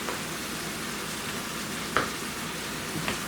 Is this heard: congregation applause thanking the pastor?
no